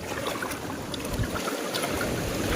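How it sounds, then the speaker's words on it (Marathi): Water rushes over a small waterfall, a steady close-up gurgling wash with no voices. "तिकडे छोटासा धबधबा पण झाला आहे पाणी बघा कसं वाहत आहे"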